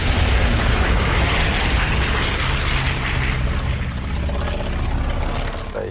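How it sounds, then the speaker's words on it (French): Flak burst striking a P-51 Mustang fighter in a WWII air battle, a heavy, sustained roaring blast that fills the span and slowly eases off. "une explosion secoue le Mustang"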